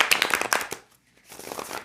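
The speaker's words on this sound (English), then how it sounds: "And now I'm going to shuffle more." Tarot cards are shuffled by hand in crisp, rapid riffling bursts, close and fairly loud, pausing briefly before a second softer shuffle, with no talking.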